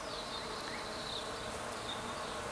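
Honeybees buzzing steadily inside an opened hive, a dense, continuous hum with no pauses, close and fairly loud, and no voices over it.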